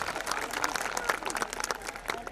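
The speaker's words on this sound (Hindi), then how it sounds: "एक बार जोरदार तालियां कर्नल साहब के लिए, चीफ गेस्ट और हमारे सभी गेस्ट के लिए।" At a school annual function, the audience gives a colonel, the chief guest, and the other guests a steady round of applause: many hands clapping continuously, fairly distant and evenly sustained throughout.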